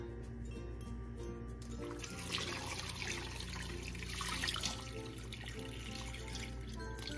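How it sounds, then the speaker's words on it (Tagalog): Water pours from a tap into a pot of cleaned beef for sinigang, a steady, soft stream with splashing that swells in the middle. Quiet overall, with no talking. "lagyan natin ng tubig yung ating baka"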